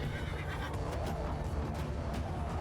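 Horses whinny and neigh amid a dense, continuous battle din in Mount & Blade II: Bannerlord, with several cries rising over the steady rumble.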